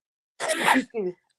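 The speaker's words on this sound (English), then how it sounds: "Oh, I'm glad that was a sneeze." A single sharp sneeze bursts out close to the microphone, followed by a short breathy exhale, heard alone without talk.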